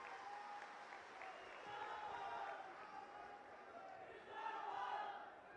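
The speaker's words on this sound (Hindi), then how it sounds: "एक बार जोरदार तालियों से हम उनका स्वागत करते हैं" A rally crowd at a public meeting in Jobat applauds to welcome Rahul Gandhi: faint, distant, sustained clapping mixed with crowd voices and shouts that swell near the middle and again toward the end.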